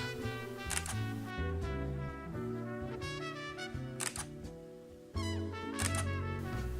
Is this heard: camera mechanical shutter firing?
yes